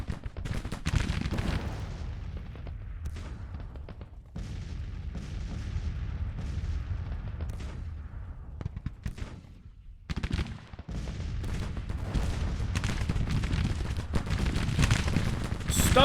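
Union troops in the Civil War strategy game Grand Tactician trade rifle volleys and artillery at the Second Battle of Bull Run: dense, continuous crackling gunfire with heavy booms that drops out briefly near the middle, then resumes just as thickly.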